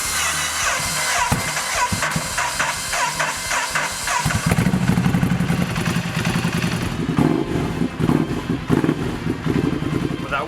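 A Triumph Thruxton café racer motorcycle cranks and fires up, its starter clatter giving way after a few seconds to a loud, steady, lumpy idle that runs on close by.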